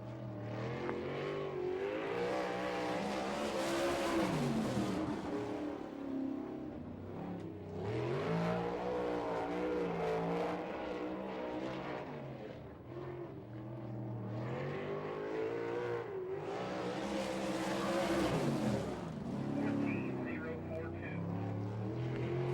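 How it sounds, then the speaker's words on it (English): Sprint car running a qualifying lap at Fremont Speedway, Ohio, its engine roaring in repeated rising and falling surges as it passes, loud throughout, with a track announcer talking over it. "first lap for Bobby Teeple"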